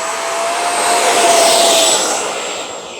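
An E-flite F-16 Thunderbirds 80mm RC jet takes off, its loud, rushing fan roar and thin steady whine swelling to a peak mid-clip and then easing slightly as it climbs away, with no voices.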